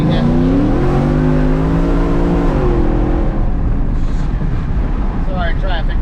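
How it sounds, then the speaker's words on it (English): A supercharged VMP Odin Ford F-150 pickup with headers and more than 750 horsepower accelerates hard on a street. Its exhaust roars loud and close, with the engine note climbing steadily over heavy wind buffeting. "The exhaust on this thing is amazing."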